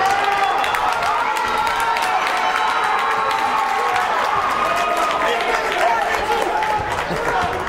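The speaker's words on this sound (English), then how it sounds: "Putnam crowd really getting into it now." The Putnam home crowd at a high school basketball game cheers and applauds in a loud, sustained roar that fills the gym while a commentator talks over it.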